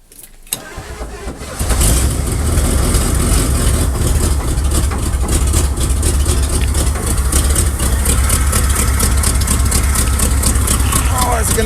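A 1979 Chevrolet engine, long abandoned, cranks and catches, then runs loud and steady at a rough idle with a constant low rumble, close by, alone.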